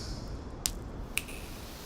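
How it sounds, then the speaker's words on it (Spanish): A single crisp snap in a quiet audio drama scene, two sharp brief clicks standing out against a low hiss, near and fairly faint. "Un chasquido fue escuchado"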